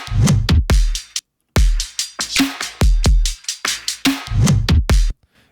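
Punchy electronic drum pattern from the drums channel of a production track, with booming kicks, crisp snares and hi-hats in a steady groove, loud and alone with short gaps of silence between bars.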